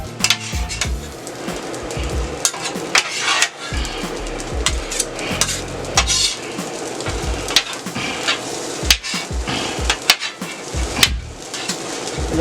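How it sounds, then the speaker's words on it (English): Carrots, onions and garlic stirred into fried rice on a steel griddle, with close, loud metal spatula scrapes and clanks in an uneven rhythm over a constant sizzle. "right now I'm going to go ahead and add my carrots and onions and garlic over"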